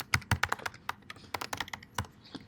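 Rapid, irregular keystrokes on a computer keyboard during a programming class, crisp close clicks in quick bursts and short pauses, with no one talking.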